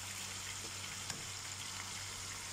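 Ginger and garlic fry in hot oil in a pan, a continuous close sizzle with a faint tap or stir partway through, no voices.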